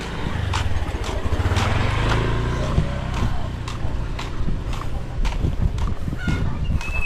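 Geese honk repeatedly in bursts over a low engine rumble, several calls overlapping, fairly loud and close.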